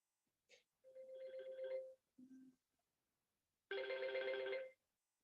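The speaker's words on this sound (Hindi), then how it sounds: "एक फोन आ रहा है बच्चे का" A phone rings faintly in separate short bursts during an online physics class, with quiet pauses between the rings.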